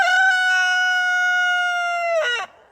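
A backyard rooster lets out one long, loud, close crow that holds steady, then breaks off into a short ragged tail before fading to quiet.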